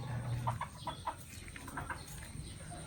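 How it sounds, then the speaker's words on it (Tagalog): Chickens cluck in short repeated calls over steady outdoor background noise, moderately close. "Dahil pa yung manok oh."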